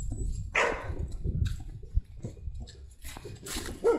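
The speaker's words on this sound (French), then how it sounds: "Ça va aboyer dans tous les sens." Several dogs bark in scattered short bursts along a walk, some near and some farther off, over low background rumble and rustling.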